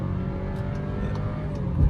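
A 2022/2023 VW Nivus Highline 200 TSI running on gasoline revs as the accelerator is pressed, a steady mid-level engine hum that swells slightly toward the end, with no talk over it.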